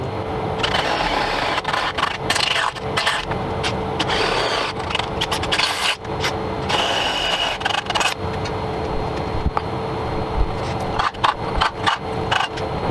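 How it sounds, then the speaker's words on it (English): A drill bores bolt holes into the steel armour shield of a Nashorn tank destroyer, giving a continuous grinding, scraping whir broken by brief stops and clanks across the stretch. "I'm gonna drill them first straight down and then a bit in an angle"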